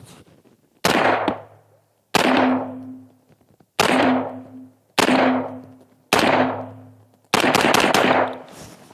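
Six sharp, loud gunshots from a 9mm/10mm pistol caliber carbine, each followed by a ringing decay, spaced about a second apart, with the last few fired in a quick rapid-fire burst; no talking.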